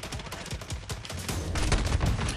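Rapid gunfire in Modern Warfare, a close burst of repeated sharp shots that thickens into heavier, denser firing near the end, with no talk.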